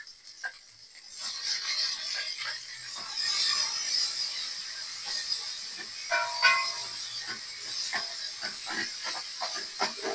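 Onion and tomato sauté in a pan for coconut-milk pork belly, with a bright steady sizzle and rhythmic scraping of a utensil stirring against the pan.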